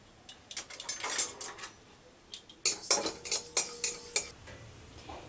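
Cumin seeds dry roasting in a hot kadai with no oil, stirred so the seeds rattle and tick in quick bursts of light scraping clatter, close and without talk.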